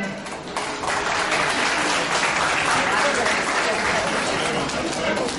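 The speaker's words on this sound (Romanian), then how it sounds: "Aplauze pentru Zaldova Mario." Loud, sustained applause from a show audience at an Aromanian performance in Călărași, a dense continuous clatter of many hands, with voices faintly mixed in.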